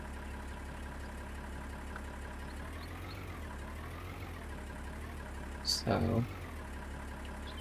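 Tractor engine in the Farming Simulator 19 video game, a steady low idling drone running throughout with a brief louder burst near the end; a voice talks briefly over it.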